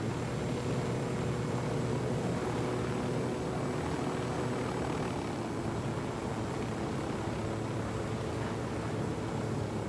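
A helicopter flying in the video game Ghost Recon Wildlands, heard as a steady, loud, continuous rotor and engine drone that holds unchanged for the full duration, with no voices over it.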